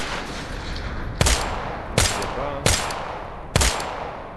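Machine gun fire in the Tactical Assault VR game, four sharp, loud single shots spaced about a second apart, each trailing off in a brief echo.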